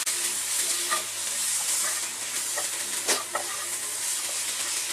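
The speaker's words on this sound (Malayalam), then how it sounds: "ചിക്കനും കൂടെ ചേർത്തിട്ട് ഇതെല്ലാം കൂടെ ഇളക്കി കൊടുക്കുക നന്നായിട്ട്" Dragon chicken with vegetables and sauce sizzles steadily in a pan over a high flame, with occasional scraping as it is stirred.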